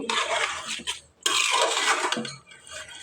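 Meat, rice and lentils for bhuna khichuri are stirred in a pot, giving scraping, rustling sizzle in two bursts separated by a brief pause, close and fairly clear.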